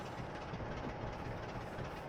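Freight train in a train simulator game, a quiet steady rumble of rolling wagons and a low engine drone, heard at a distance with no talking.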